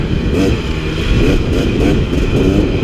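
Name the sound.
KTM 300 XC dirt bike braking and shifting gear on single track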